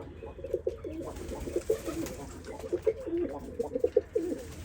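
Pigeons cooing up under a backyard shelter, a string of soft throaty coos repeating in loose rhythm at close range, with low background hum and no talk.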